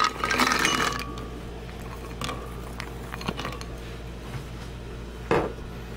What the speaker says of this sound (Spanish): En la licuadora vamos a agregar las nueces.